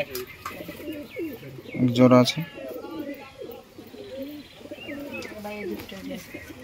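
Low, throaty pigeon coos from a seller's pair of fancy pigeons roll on repeatedly nearby, partly under a man's speech, with a louder burst of activity near the start.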